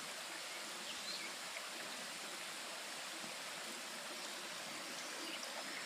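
Water spills over a beaver dam at Beaver Lake along a wooded hiking trail, making a steady rushing, trickling sound that runs on evenly and alone throughout.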